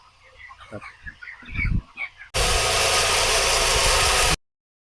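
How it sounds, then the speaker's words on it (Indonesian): Chickens cluck softly at first, then a poultry feed machine abruptly roars into a dense, steady grinding noise before cutting off into silence. "Suara dari mesin pakan."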